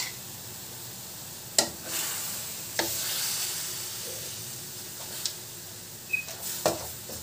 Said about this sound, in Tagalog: Haluin lang po natin mabuti hanggang sa ma-absorb ng karne yung toyo.